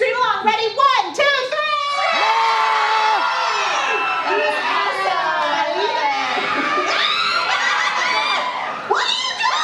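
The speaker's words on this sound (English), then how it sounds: "Everybody scream along." A theatre audience at Universal Orlando's Horror Make-Up Show screams together in a loud, sustained mass of shrieking voices lasting several seconds, with a few shouts at the start and end.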